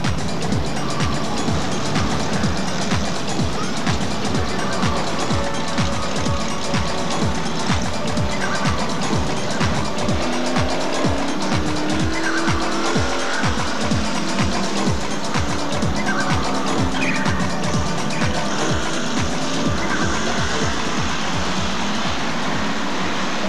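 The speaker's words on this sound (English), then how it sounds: "Cars now starting the rolling lap for the grand final." Engines of several Hotstox stock cars on a rolling lap at Skegness rumble and drone continuously at moderate distance, a dense mechanical roar with rhythmic pulsing, no clear talk.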